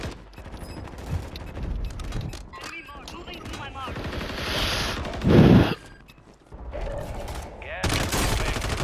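Rapid bursts of gunfire in a ranked shooter match, dense and continuous with a sharp loud volley near the middle, mixed under a talking player's voice and game audio.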